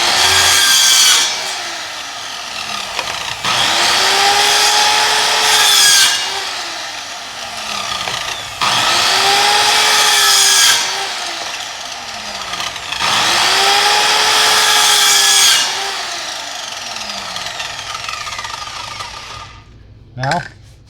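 A power saw cutting through PVC pipe in four loud repeated passes, each a rising whine with a rasping bite and brief lulls between, ending with a short knock.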